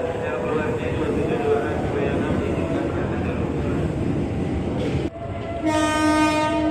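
A commuter train comes into platform 7 at Manggarai station on the night of takbiran. A loud, continuous rumble and rail roar builds close by, and a sustained horn blares near the end.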